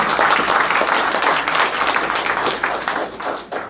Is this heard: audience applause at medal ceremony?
yes